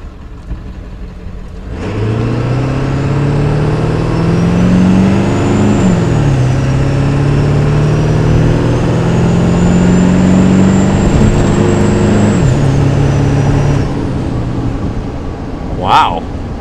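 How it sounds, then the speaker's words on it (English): Ford OBS 7.3 diesel truck with a downpipe, its turbo whistling loud and steady over a running engine for about twelve seconds before cutting off. "the turbo does a lot more screaming in this thing than your average V8"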